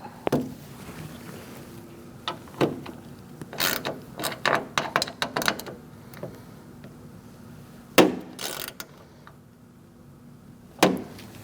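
A bolt on the left front exterior door handle reinforcement of a 2006-2011 Chevrolet is snugged up by hand tool, giving scattered mechanical clicks and ratcheting bursts, with a few sharper knocks between them, close by.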